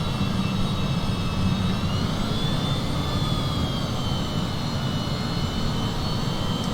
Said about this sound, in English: There's the engines. Spooling up.